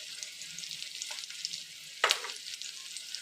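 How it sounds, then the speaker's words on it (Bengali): Salted onions sizzle steadily in hot oil, a soft continuous crackle with a brief louder burst as they are stirred in the pan. "এবার এই পেঁয়াজটাকে লাল লাল করে ভেজে নেব"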